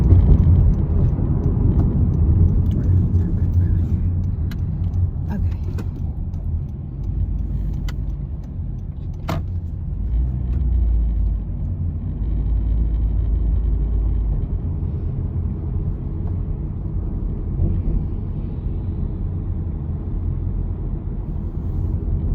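A car driving along with a constant low road rumble and engine hum from inside the cabin, loud and unbroken, with a few faint clicks and rattles and no voices.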